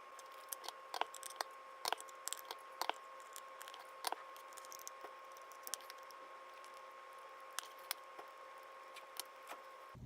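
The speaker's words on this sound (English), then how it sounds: "place both of the ointments on the slab and start mixing them until they're completely mixed together" Two ointments are worked together on a slab, giving faint, soft squishing and light tapping clicks at irregular intervals over a quiet, steady hum.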